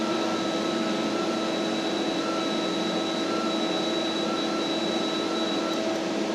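A plasma cutting torch runs with a steady, loud hiss and hum, an even unbroken roar with faint high whines, continuing alone without a break.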